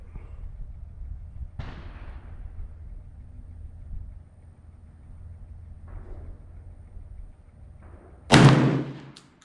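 A Black Aces Tactical FD12 bullpup shotgun fires outdoors: a sharp report, then after several seconds of low background rumble a louder, heavier blast near the end.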